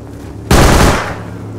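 Gunfire in Rust erupts suddenly after a quiet moment, a loud close burst of rapid shots lasting about half a second, then a fading echo.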